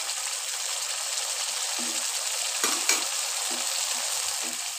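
Spice masala for egg korma stirred and fried in a pan over a medium gas flame gives a steady, close sizzle, with a few soft scrapes and knocks of the spoon breaking through.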